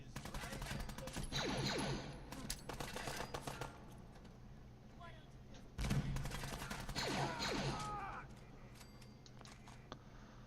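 Rapid bursts of stormtrooper rifle fire in the video game Fallout 4, two loud volleys of quick automatic shots with impacts, a short pause between them, and faint talk underneath.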